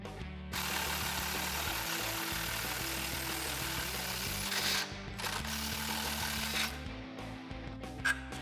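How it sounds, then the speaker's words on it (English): A wrench and 18mm socket work a lower shock bolt loose on a Jeep Wrangler JK, steady ratcheting clicks and metallic mechanical clatter up close, with brief pauses between turns. "you're going to need two 18mm. I'm going to use a wrench and a socket."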